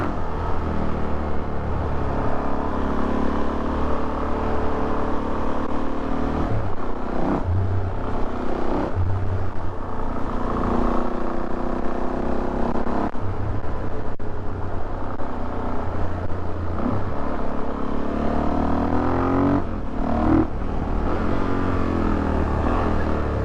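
A modded Suzuki DRZ 400 SM motorcycle accelerates hard on the road, its single-cylinder engine droning loud and close with rising revs, gear changes and steady wind rush throughout.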